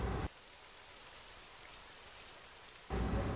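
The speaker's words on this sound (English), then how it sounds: "It was raining, so you couldn't go outside." Steady rainfall patters as a constant wash of noise, loud at the start and end with a softer, more distant stretch in between.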